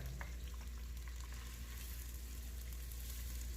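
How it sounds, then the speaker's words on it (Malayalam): Five onions frying in a pan for kuska rice, a meatless biryani, giving a steady, fairly faint sizzle with a few light crackles and no voices. "ഇനി നമുക്ക് ഇതിനകത്ത് കാര്യം വെച്ചിട്ടുള്ള 5 സവാള ഇടണം കേട്ടോ അതിനകത്തിട്ട്."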